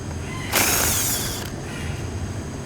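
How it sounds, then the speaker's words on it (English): Bolts come off a KTM clutch slave cylinder with one loud, close mechanical ratcheting whir lasting about a second, followed by low background noise. "Remove the two remaining bolts."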